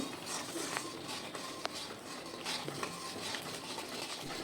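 Spatula stirring and scraping mango pulp with spice in a pan, a steady soft patter of scrapes and light clinks repeating throughout at close range, fairly quiet with no talking.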